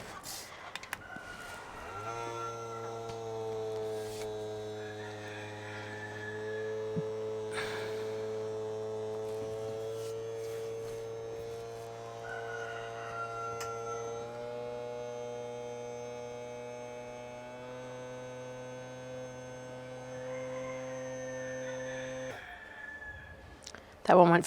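A small electric vacuum sealer pump whines steadily for about twenty seconds while sealing a mason jar, its tone shifting slightly as suction builds, then cuts off with a click.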